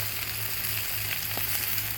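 Chicken pieces sizzle steadily on a Blackstone griddle, a constant close hiss and crackle with a low hum beneath and no talking.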